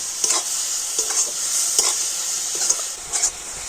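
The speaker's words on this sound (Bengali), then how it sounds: "সুন্দর করে নাড়াচাড়া করে তো একটু আঠালো মতো পুর তৈরি করে নিতে হবে" A spoon scrapes and stirs a sticky sesame filling for tilkuli pitha in a pan, giving repeated scraping strokes about once a second over a steady soft sizzle, with no talk.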